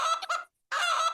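A plastic squeaky toy chicken squeezed twice, giving two loud, harmonic honking squawks separated by a short silence, close and clear with no talk.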